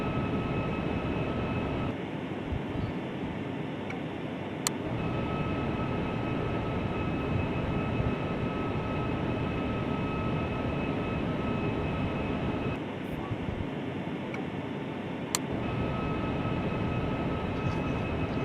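Avianca 757-200 jet engines at full throttle in the FSX flight simulator, a loud, steady broadband roar with a thin constant whine running through it, holding level throughout with only a couple of brief dips.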